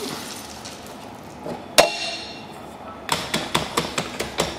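Polverone black powder is tamped into a Maltese firework shell case: one sharp knock, then a quick run of about six crisp tapping blows near the end, over a quiet background.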